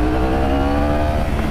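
A 2016 Yamaha R1 sport motorcycle engine gives a loud, close, steady droning note with rich layered tones and no pauses.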